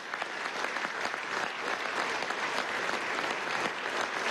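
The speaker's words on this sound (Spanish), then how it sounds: "Quiero un aplauso para este joven venezolano." An audience at a government event with President Nicolás Maduro applauds a young Venezuelan lawyer, a dense, steady wall of clapping that holds at full strength throughout with no voices over it.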